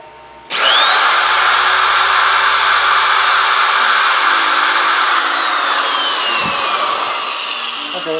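A power drill fitted with a dull bit starts abruptly and runs loud and steady with a high whine for several seconds, then slowly winds down.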